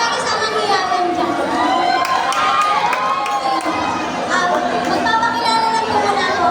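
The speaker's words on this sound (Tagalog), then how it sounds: "Wala po ba mga sigabang palakpakan na may kasamang hiyawan dyan?" An audience at a singing performance in Taguig City cheers and shouts continuously, a loud, lively mix of whoops, screams and crowd chatter, with excited voices layered throughout.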